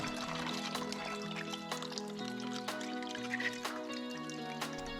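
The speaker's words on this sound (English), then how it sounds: "I then give the eggshells a quick rinse." Water trickles and drips softly over eggshells collected in a bowl during a quick rinse, a steady low splashing with scattered small clinks throughout.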